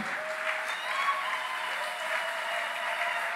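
A church congregation applauds and cheers in acclaim of the Lord during a worship service, with steady, dense clapping filling the whole stretch at an even level, no voice standing out.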